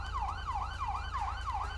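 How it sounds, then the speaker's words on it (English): Emergency vehicle siren from the video game GTA 5, a fast, even wailing tone that rises and falls about five times in under two seconds, steady and alone without speech. "tapping the horn will activate the siren."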